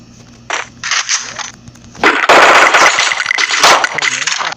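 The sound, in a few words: gunfire exchange in a Free Fire video game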